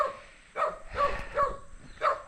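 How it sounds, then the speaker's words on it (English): A dog in a mountain village barks in a mock-aggressive way, a few moderately distant woofs and yips spaced unevenly over a quiet outdoor background. "The dog pretending to be aggressive."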